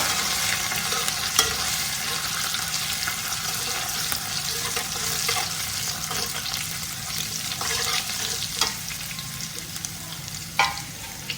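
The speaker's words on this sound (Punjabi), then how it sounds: "ਤੇ ਹੁਣ ਆਪਾਂ ਪਾਵਾਂਗੇ ਇਹਦੇ ਵਿੱਚ ਲਸਣ ਇਹਨੂੰ ਵੀ ਆਪਾਂ ਬ੍ਰਾਊਨ ਹੋਣ ਦੇਵਾਂਗੇ" Garlic fries and browns in a pan of hot oil with a loud, steady, crackling sizzle that fills the whole stretch, with occasional sharper pops and stirring knocks up close.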